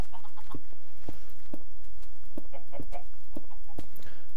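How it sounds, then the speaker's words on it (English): Chickens in a video game cluck in short, repeated clicks and chirps spaced about half a second apart, fairly loud against a quiet background. "Alright, chickens, get in this little hole here."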